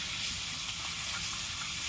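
Dense, continuous hissing sizzle of chopped banana stem, rubbed with salt and turmeric, frying in oil outdoors, close and steady with no voices.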